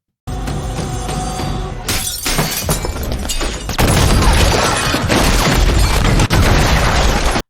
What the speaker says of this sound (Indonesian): akibat ledakan barusan, Lena pun harus tewas